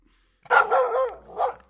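A dog barks outdoors beside a homemade garden pond being built, giving one loud, close, slightly drawn-out bark followed by a shorter second yelp, alone with no talking.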